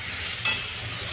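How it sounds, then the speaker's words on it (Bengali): Spices frying in a hot pan make a brief, steady, loud sizzle with one quick scrape of stirring partway through. "এখানে মশলা ফ্রাই করছি।"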